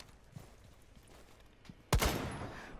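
A sharp, loud gunshot cracks out in Rainbow Six Siege with a short ringing tail, coming after a quieter stretch of faint in-game ambience and light footsteps.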